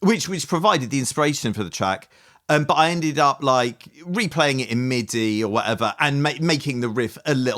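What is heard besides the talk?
No everyday noises stand out.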